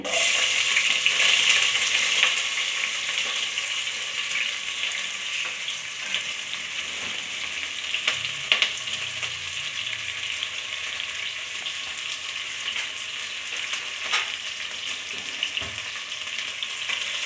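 Onions and fenugreek frying in a pan: a steady, close hiss and sizzle of hot oil, with occasional soft scrapes from stirring, no talk.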